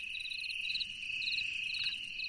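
Crickets chirp in steady repeated pulses through a small speaker as played relaxation sounds, a continuous high trill with a constant tone beneath, fairly loud and alone with no talking.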